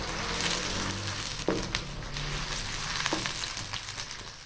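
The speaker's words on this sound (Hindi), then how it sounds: "आधा कप कुकिंग ऑयल ज़रा सा गर्म हो जाए तो फिर इसमें प्याज डाल के ब्राउन करते हैं।" Onions browning in half a cup of hot cooking oil for chickpea pilaf give a steady, close sizzle throughout, broken by a few sharp stirring clicks, with no one talking.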